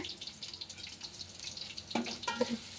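Onions frying in a pan with bay leaf, cloves and cardamom give a faint, steady sizzle, with a few brighter bursts and clinks near the end.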